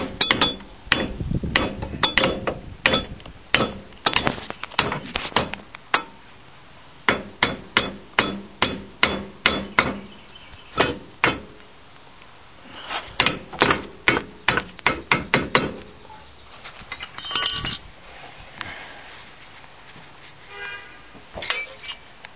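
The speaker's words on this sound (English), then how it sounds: "Now take a drift and tap that bottom link pin out" Hammer and drift tapping a bottom link pin out of a stub axle during a king and link pin replacement: dozens of sharp, loud metallic strikes in quick bursts with short pauses, close by, no talking.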